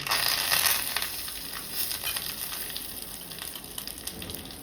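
Curry leaves sizzle in hot oil with cumin, mustard seeds and asafoetida while tempering for Kathiyawadi dal, a steady crackling hiss that is loudest at the start and then eases slightly, heard alone.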